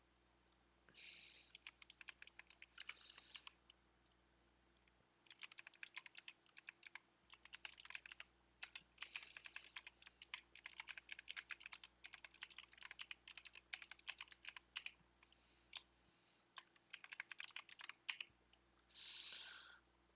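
Fingers type on a computer keyboard to fill out a sign-up form, with fast clattering key bursts broken by short pauses, close and clear with no voices.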